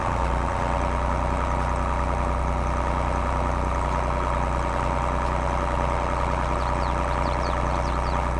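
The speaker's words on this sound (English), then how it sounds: "this Fiat is a little bit louder than other tractors" A Fiat tractor engine in Farming Simulator 22 drones steadily and loudly for the whole stretch, a constant low idle-like hum with no voices over it.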